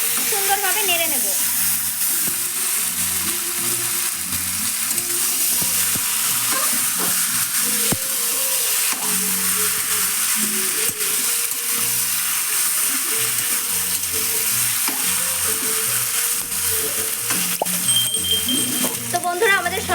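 Marinated, fully spiced chicken fries in a wok while being stirred, giving a continuous loud sizzle with scraping stir strokes throughout. Faint talk sits under the cooking noise.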